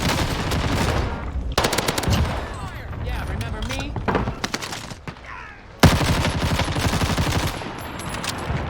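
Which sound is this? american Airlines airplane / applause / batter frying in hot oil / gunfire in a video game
gunfire in a video game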